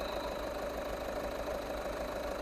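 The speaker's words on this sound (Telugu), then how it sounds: "ఇక్కడ ఇంజన్ కూడా చాలా స్మూత్ ఉంది. వెహికల్ రన్నింగ్లో ఉంది." A 2015 Skoda Rapid diesel engine idles with the car running, a steady low rumbling hum heard close and unchanging throughout.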